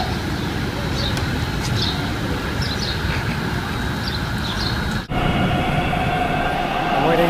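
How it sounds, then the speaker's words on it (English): A train at a station gives a steady, loud rumble and roar, with faint high squeals and clicks over it. "I'm waiting for a train."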